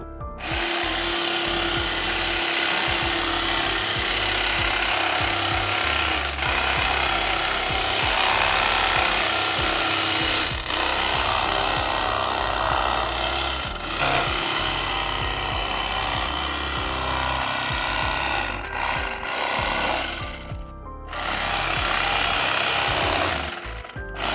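A saw cuts Angus rib steaks about an inch thick with a loud, continuous buzzing and grinding that runs for a long stretch, with a few short breaks near the end.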